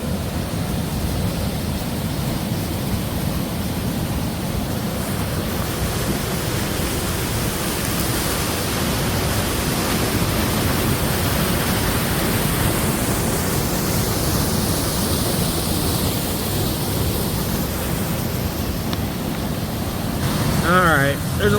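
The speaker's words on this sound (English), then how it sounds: "Obviously the waterfall's off to our left. But we're going to check out the cascades going down to it." Waterfall cascades on Lake Superior's North Shore send out a steady, full rushing roar that stays even throughout, close and loud, with a brief higher chirp near the end.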